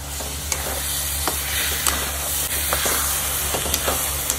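Chili paste for Schezwan chutney fries with garlic as it is stirred, a continuous close sizzle and hiss broken by regular scraping strokes and small spits, with a low steady hum underneath and no talking.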